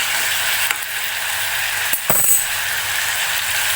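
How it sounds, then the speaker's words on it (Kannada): Tomatoes frying in oil for avarekalu huli, producing a loud, continuous hiss of hot oil with a brief clatter of stirring partway through. "ಸ್ವಲ್ಪ ಈ ಥರ ಎಣ್ಣೆಯಲ್ಲಿ ಫ್ರೈ ಮಾಡೋದ್ರಿಂದ ಸಾರು ತುಂಬ ರುಚಿಯಾಗಿರುತ್ತೆ"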